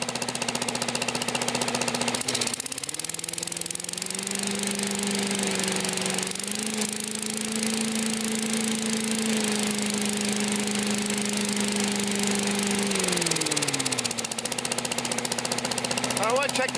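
A Briggs & Stratton 200cc engine on a Simplicity ground leaf blower runs steadily up close, its droning hum rising from idle to a higher pitch for several seconds, then dropping back down.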